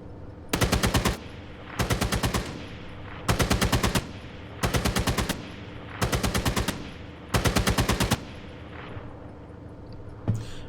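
A 14.5mm heavy machine gun firing in the tank game GHPC, six loud, even bursts of rapid shots, each under a second long, separated by short pauses, with no talking.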